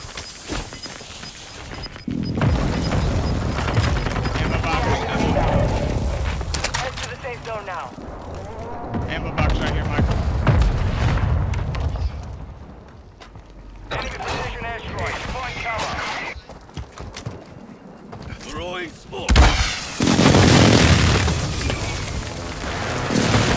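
Gunfire and explosions ring out in a video game firefight, bursts and booms coming in dense, loud waves with a sharp blast near the end, while voices talk over the action.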